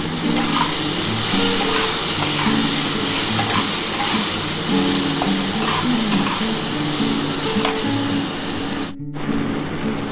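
Tomato goes into a pan of potatoes frying in oil for a katla fish curry, with a continuous close sizzle and stirring scrapes, then a momentary drop near the end before the sizzle resumes.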